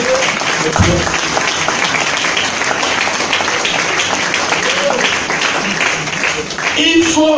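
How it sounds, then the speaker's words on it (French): Sustained, dense applause from a church congregation in worship fills the space, steady and loud from start to finish, with a few voices rising over it near the end. "Acclamons le Seigneur"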